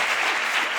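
Audience applause at a Spanish-language academic talk on dance and archives, a dense steady clapping that fills the whole brief moment at close range with no voices over it.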